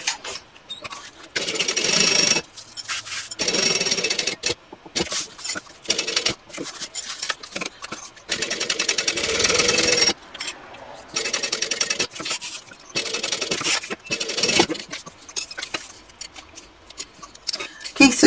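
A sewing machine bastes the side of a handbag panel in bursts of fast, rattling stitching separated by short pauses, close and fairly loud.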